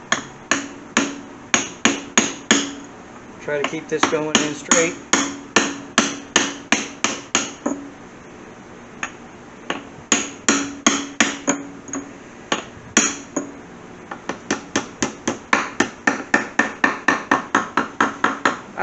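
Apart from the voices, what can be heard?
brass hammer tapping socket to seat Corvette transmission seal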